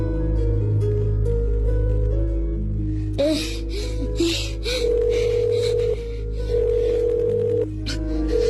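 A steady telephone dial tone hums after a call is cut off, running continuously under light background clatter and brief higher tones, fairly loud and close throughout.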